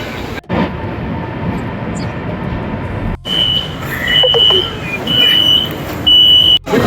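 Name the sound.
busy metro station rush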